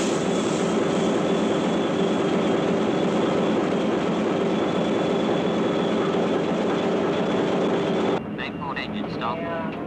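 A ship's port main engine runs in an engine room, a loud, continuous low drone with a steady hum that drops slightly near the end.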